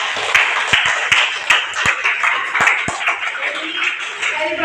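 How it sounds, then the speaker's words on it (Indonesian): A classroom group claps for a student named Azura, a burst of scattered hand claps with sharp individual smacks over a roomy, busy background. "Tepuk tangan untuk Azura"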